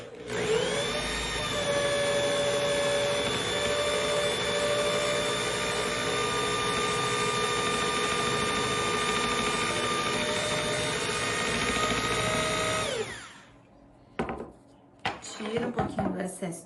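Power drill running at low speed as it bores slowly into cured resin for an LED picture frame, a steady whining motor tone held for about thirteen seconds before stopping, followed by brief clattering handling noises.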